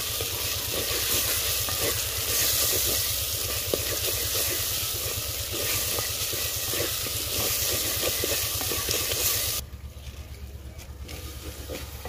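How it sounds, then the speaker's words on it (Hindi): Spice masala with red chili and turmeric frying in a pan, a continuous sizzling hiss with a busy crackle that drops to a quieter simmer near the end, no speech. "मसाला अच्छे से भुन गया।"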